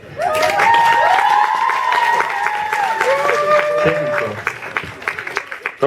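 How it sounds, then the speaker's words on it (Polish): Crowd on a 2012 pilgrimage applauding and cheering loudly, with whistles and shouts over dense clapping that thins to scattered claps near the end. "brawa muszą słyszeć"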